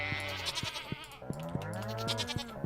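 Goat bleating in the farming video game Stardew Valley, several short harmonic bleats in quick succession, fairly close and clear over a soft game background, with no talking.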